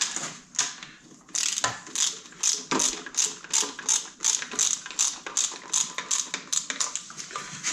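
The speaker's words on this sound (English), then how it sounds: "We're just going to torque these at 20." A ratcheting torque wrench tightens bolts during a rebuild of a Kubota D1105 engine, giving steady, close, even clicks in bursts of repeated strokes with brief pauses. No voices are heard.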